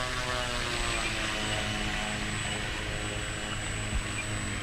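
An FMS DeHavilland Beaver 2000mm V2 RC float plane drones steadily with a continuous propeller buzz, holding a constant level throughout as it takes off with zero flaps and climbs straight up, with no talking.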